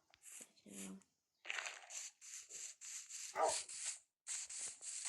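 A dog barks in short, separated bursts close by, with scraping, rubbing noises filling the gaps between calls.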